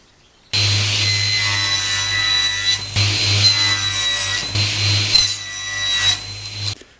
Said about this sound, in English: So I'm cutting them just over 22 inches on this table saw.